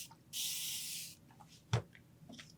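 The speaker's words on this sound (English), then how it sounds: "or you could take your spray bottle," A short burst of hissing spray from a bottle lasts under a second, followed by a faint click and quiet handling noises.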